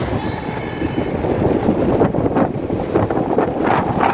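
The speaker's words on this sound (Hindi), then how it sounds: "और उसमें ज़्यादा बारिश का भी मौसम है और क्या हवा चल रही है।" Strong wind during rainy weather buffets the microphone with continuous loud rumbling gusts, steady and close, with no voices.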